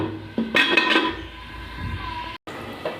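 A lid set onto a cooking pot while greens are being prepared, a few close metallic clinks and clatters early on, followed by a quieter low simmer with a brief dropout near the end.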